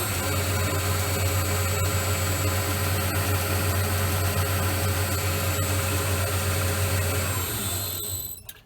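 An ABB six-pole 1.1 kW electric motor drives a lathe with a steady, loud mechanical whine and hum that holds constant for about seven seconds before spinning down at the end.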